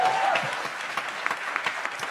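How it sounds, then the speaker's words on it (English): Audience applause for a drummer at a live music event, a short burst of clapping from a crowd, moderately loud and fairly dense. "Let's give him a round of applause."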